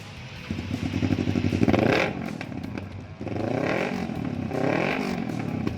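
A 2026 Kawasaki Ninja 650 motorcycle engine runs loud and close, rising in pitch as it revs, dropping back, then revving up twice more, with no talking.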